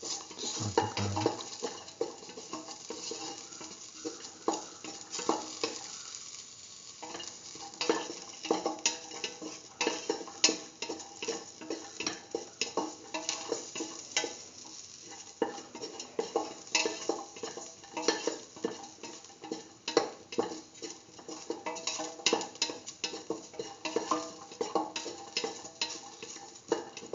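Garlic sautés in a pan, giving a faint, steady sizzle. Frequent scrapes and clinks of stirring sound throughout, with no talking.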